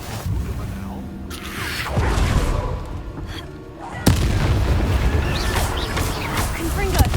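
A Confringo blasting spell goes off in Hogwarts Legacy, with booming, crackling blasts at about two and four seconds over dense game noise, then a sustained rumbling roar.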